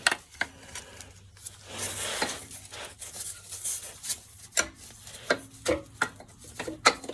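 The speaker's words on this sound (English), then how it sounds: "I just gotta pry up against this oil pan somewhere" Scraping and knocking from a Harbor Freight pry bar levered against the oil pan of a 2008 Chevy Malibu 3.5L engine during removal, in a series of sharp metallic taps and rubs spread irregularly through the clip, with no talking.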